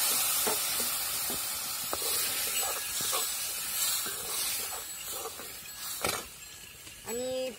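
Water is poured into fully fried masala in a hot kadhai for a spicy gravy, raising a loud, steady hiss and sizzle that fills the whole stretch, with a brief tonal blip near the end.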